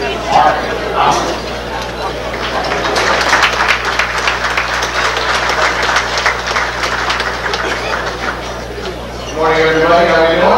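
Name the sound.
applause at celebrity breakfast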